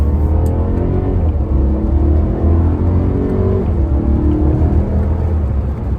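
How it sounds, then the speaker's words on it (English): A BMW E90 M3 engine with an Active Autowerke aftermarket stainless steel rear muffler drones steadily at low pitch, with a smooth, muted exhaust note and slight changes in revs, heard close. "you can hear the car sounds great, but, you know, there's almost no exhaust noise"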